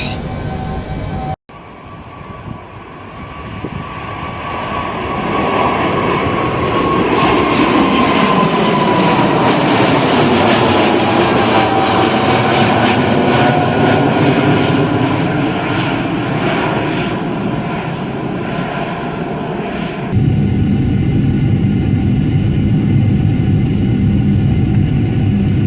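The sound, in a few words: Boeing 747-8F jet engines climbing, Microsoft Flight Simulator video game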